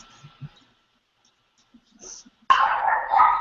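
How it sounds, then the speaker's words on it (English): Dogs bark indoors, first a few faint yips and whimpers against near silence, then a sudden loud, sustained burst of close barking. "The dogs are barking."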